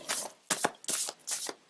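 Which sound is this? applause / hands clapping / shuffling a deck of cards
shuffling a deck of cards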